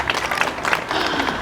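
Wedding guests at the Amber Spring Hotel in Gorey cheer and clap in a short burst, loud close hand claps mixed with scattered whoops from the crowd.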